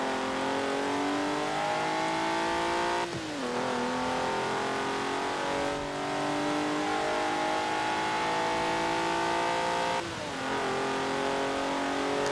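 A 1992 Alfa Romeo 155 Q4 with all-wheel drive accelerates hard in the Forza Horizon 4 racing game, its engine note climbing through the gears with short dips at each shift, steady and loud throughout.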